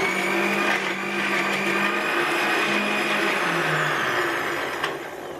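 Kitchen blender grinding ginger and garlic into paste, a loud steady motor whir held for several seconds with slight pitch shifts as the load changes, close and uninterrupted by talk.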